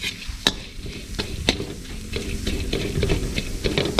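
Galangal, garlic and shallot dry-roasting in a pan, with sharp periodic clicks and taps as pieces shift and are stirred over a low crackling background.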